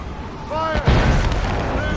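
Ship cannon fire in the naval combat of Assassin's Creed Rogue, a heavy booming blast followed by a rumbling roar, with shouted voices heard over the battle noise.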